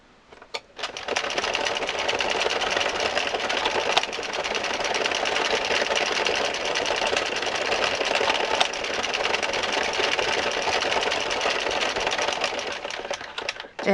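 An Addi knitting machine cranked steadily, its needles making a loud, continuous mechanical clatter and whir that runs without pause for most of the stretch, no talking.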